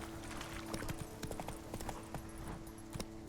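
Roach the horse trotting in The Witcher 3, a steady run of clip-clopping hoofbeats layered over a constant game ambience with a low hum, moderately loud throughout.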